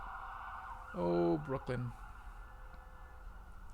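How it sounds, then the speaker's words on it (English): An emergency siren drones steadily in the background while a person briefly speaks over it, the siren continuing after the voice stops. "I'll give it a second for those sirens"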